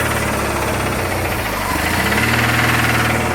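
A car engine runs shortly after a cold start, a loud, close, rough idle with a knocking, vibrating chug that stays steady throughout.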